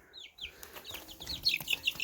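Several short, squeaky chirps and clucks from young chickens, rising in a quick irregular series, fairly close and clear.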